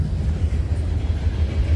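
A nearby passing train gives a steady, loud low-pitched rumble with a faint wash of higher hiss, continuous throughout.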